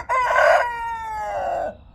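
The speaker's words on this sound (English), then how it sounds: "Every now and then he's starting to get a crow that's really decent." Young rooster crowing close by, a single loud, strained cock-a-doodle-doo lasting under two seconds that trails off into a weaker drawn-out ending, with no talk over it.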